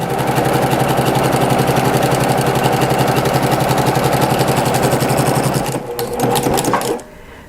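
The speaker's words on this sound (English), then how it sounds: "I'm going to slide my next square under the beginning of the foot of the walking foot, and I'm going to go ahead and sew it" Close, loud and rhythmic, a sewing machine fitted with a walking foot stitches rag quilt squares in a fast, even needle chatter, slowing and pausing briefly near the end before a short final burst.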